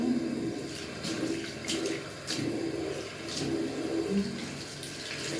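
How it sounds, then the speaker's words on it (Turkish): Warm tap water runs steadily into a sink while makeup brushes are rinsed, a constant close splashing stream with small fluctuations as the brush moves under it. "Tekrar ılık suyu açtım arkadaşlar."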